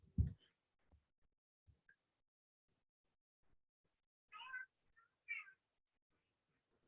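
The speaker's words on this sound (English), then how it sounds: "Did I just hear a cat?" A cat meows twice in the background of a quiet room, two short, faint cries a second apart, with a few soft knocks and clicks before them and no talking.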